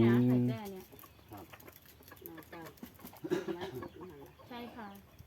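Native Thai village chickens cluck and call on a rural farm, near and moderate, with a rooster-like call at the start and people talking throughout.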